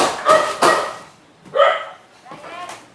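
A dog barking outside, several sharp barks in separated bursts, moderately close, with a voice speaking over parts of it.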